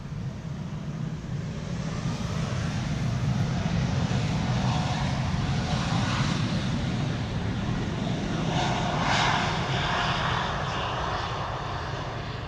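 An airliner makes a rolling-start takeoff at Amsterdam Schiphol, its jet engines giving a loud, steady roar with a deep rumble that holds for the whole stretch and swells slightly midway, with no talk.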